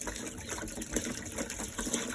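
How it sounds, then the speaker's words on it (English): Water pours from a bucket into a chicken waterer, a steady gushing, splashing flow lasting the whole moment at close range with no talking over it. "And to refresh their water, I just use the bucket."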